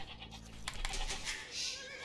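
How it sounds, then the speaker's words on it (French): Goats bleat in Age of Empires II, a short wavering bleat at the start followed by softer scratchy game sounds, fairly faint and close. "on a trouvé nos deux premières chèvres"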